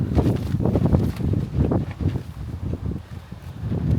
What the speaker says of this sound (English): And that wind just blows straight in